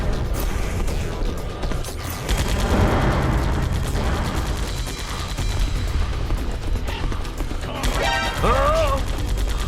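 Enemy gunfire in Metal Gear Solid: The Twin Snakes, a dense, continuous clatter of shots and mechanical clanks mixed with game effects and a rising synthetic tone near the end, with people talking over it throughout.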